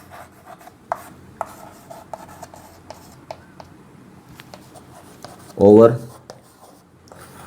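Marker strokes squeak and tap across a board in short, scattered scratches. A brief spoken word breaks in partway through.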